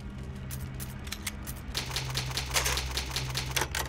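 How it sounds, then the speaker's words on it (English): An old typewriter in the video game Resident Evil HD Remastered clacks out a quick run of sharp, close keystrokes, the rhythm steady at first and then denser and louder toward the end, with no voices. "Old typewriter, save my progress."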